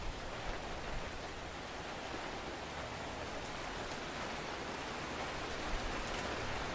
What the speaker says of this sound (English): now you can hear the rain coming in